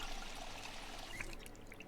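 A water bottle being filled in Project Zomboid, with a soft steady trickle of pouring water, faint and continuous for about two seconds.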